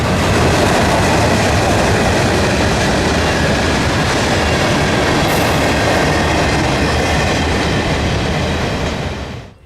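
An EMD SW1001 switcher locomotive of 1,000 horsepower rolls past at Folkston, a loud, steady rumble of engine and rail cars with clattering wheels that holds for several seconds, then cuts away abruptly.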